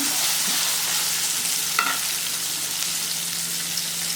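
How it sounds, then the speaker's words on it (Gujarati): Soaked chickpeas cooking in oil over a medium flame, a steady gentle sizzle and hiss with a brief scrape partway through, close and unbroken. "આ બાફેલા અને સોરી પલાળેલા ચણાને આપણે ચડવા દેવાના છે ઓકે એકલા તેલમાં ચડવા દેવાના"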